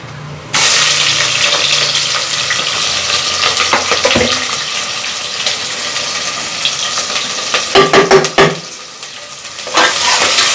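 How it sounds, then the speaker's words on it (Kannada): Onions sizzle loudly in a pan of hot oil with bay leaf, cardamom, cloves and other whole biryani spices, steady frying hiss throughout with brief metallic clinks and scraping of stirring near the middle and end. "ಇವಾಗ ಸ್ವಲ್ಪ ಈರುಳ್ಳಿ ಹಾಕ್ಕೊತೀನಿ ಬಾಡ್ಸಕ್ಕೆ."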